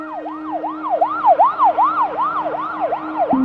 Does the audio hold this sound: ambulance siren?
yes